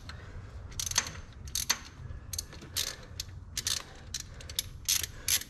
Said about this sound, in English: there's a hold down clamp on this camshaft synchronizer that I am loosening